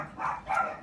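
A dog gives two quick barks in succession indoors, fairly soft and slightly distant.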